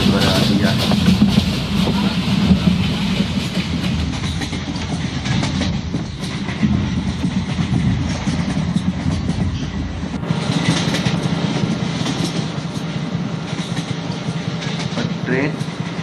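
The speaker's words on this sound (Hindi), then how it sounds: "ट्रेन चल पड़ी है" A passenger express train in the Open Rails train simulator, Patliputra Express on a New Delhi–Howrah run via Patna, rolls steadily with continuous rumble and clickety-clack of wheels on rail joints, with a voice talking over it.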